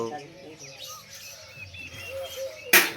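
A bird that visits a home each day to peck at grain gives soft, thin chirps over faint room noise, ending in a short sharp rustle.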